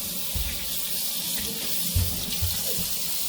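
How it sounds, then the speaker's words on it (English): Tap water running into a sink as a catfish fillet is rinsed, a steady close splashing stream with a few louder gushes and soft thuds as the fillet is handled, no speech. "And wash this guy off real good."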